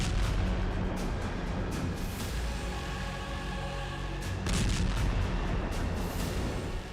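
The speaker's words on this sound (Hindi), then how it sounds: "बटन दबने के साथ ही जोरदार धमाका हुआ।" A large blast at sea booms out as a dense, heavy rumble with sharp cracking bursts, loud and sustained, surging again toward the end.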